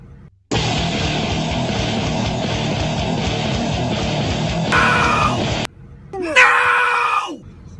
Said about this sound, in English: You have no right to scream at me?